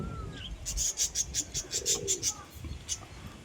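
A pigeon coos in a quick run of soft repeated pulses, fairly close, over faint background noise.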